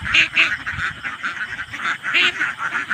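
Domestic ducks kept for raising quack nearby in a steady, overlapping chorus of repeated nasal calls that carries on without pause throughout.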